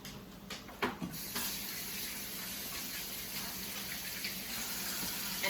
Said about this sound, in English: immediately wash my hands